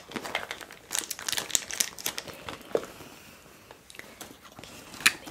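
Rummaging through a new leather laptop tote work bag, with close, irregular crinkling, rustling and soft knocks that come in uneven bursts, quiet and without speech.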